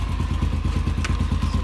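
Honda TRX90 ATV engine running just after starting, a close, loud, rapid regular thumping of a small single-cylinder engine with slight clatter, steady throughout.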